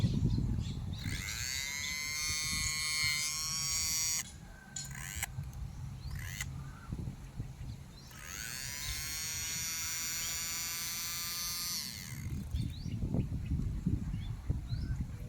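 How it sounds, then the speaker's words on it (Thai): A small cooling fan on a WLtoys 124017 V2 brushless 1/12 RC car whirs with a high buzzing, scraping tone as its blades rub the edge of a too-small frame, running in two long bursts with a short pause between. "เหมือนมันทำกรอบพัดลมมันเล็กไปนะครับ แล้วพัดลมมันถูกับขอบ"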